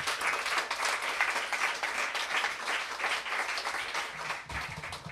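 Audience at a literary reading giving a round of applause to the readers, steady dense clapping filling the room for several seconds before tapering slightly at the end.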